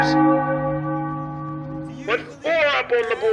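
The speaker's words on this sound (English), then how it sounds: "Ring the bell in Philly as the Raiders" A ringing bell rings out at a baseball championship game after a three-run home run, its sustained tones decaying for about two seconds before an announcer's excited voice takes over.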